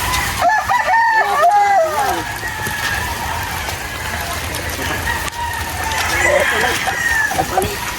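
A White Kelso gamecock rooster crows loudly and close by, repeated long wavering calls over steady outdoor background noise, with a second crow near the end.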